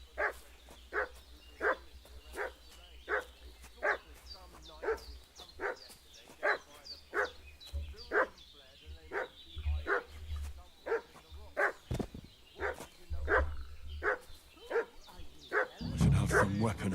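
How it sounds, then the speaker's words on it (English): In Kingdom Come: Deliverance II, a dog barks in a steady, evenly spaced series of sharp woofs at moderate distance, keeping on for the whole stretch, with a louder thump near the end. "What's that dog making such a fuss about?"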